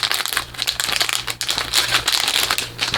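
A smart USB LED strip light package is being opened, giving steady crinkling and rustling of plastic and paper packaging, close and fairly loud, with no speech.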